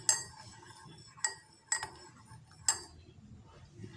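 A spoon clinks against a glass while stirring a spoonful of honey into a ginger and lime herbal cough drink, four sharp separate taps over quiet background.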